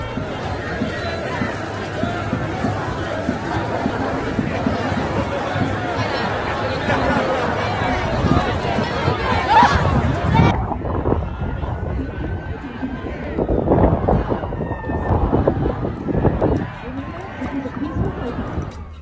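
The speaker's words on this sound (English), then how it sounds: "The crowd grew louder as more joined in" A protest crowd against DOGE chatters and shouts in a dense hubbub, a steady roar of many voices swelling toward the end, with scattered louder calls rising above the mass.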